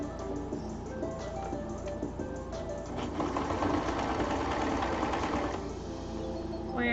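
A sewing machine running steadily at close range, its rapid mechanical whir and needle clatter continuous and moderately loud, picking up slightly in the middle.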